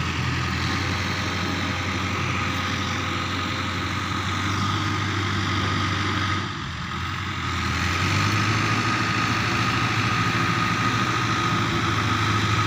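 A 640 model tractor engine from 2000 runs in the rain with a steady, low, loud idling drone that dips briefly midway and then resumes its even hum, with no voices.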